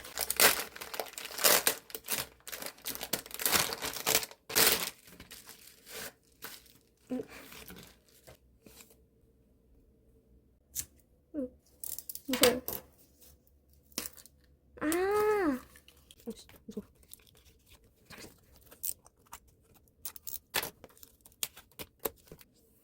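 Parcel plastic packaging being torn open by hand, with bursts of crinkling and sharp ripping scattered between quiet pauses, close to the microphone.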